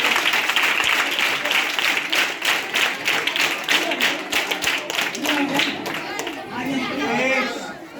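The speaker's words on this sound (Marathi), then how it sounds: "तसं टाळ्या वाजवायला पाहिजे." At an awareness program on scientific thinking and anti-superstition law, an audience claps loudly in a brisk, slightly rhythmic burst with chatter mixed in, tapering off as voices take over near the end.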